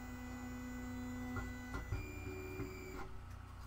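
A 3D printer runs with its nozzle printing off the bed, giving a steady electrical hum and whining stepper-motor tones that shift pitch in short steps, close and alone.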